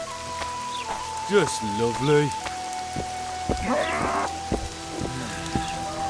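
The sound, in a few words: rain falling in the video game The Witcher 2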